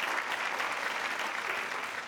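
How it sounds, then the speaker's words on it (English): Steady, dense studio audience applause on a televised quiz show, continuous and evenly loud throughout with no talking. "Round of applause."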